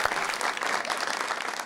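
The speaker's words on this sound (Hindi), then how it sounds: "तालियां।" Studio audience applause on a television talk show, steady dense clapping throughout, moderately loud and close, with no talking over it.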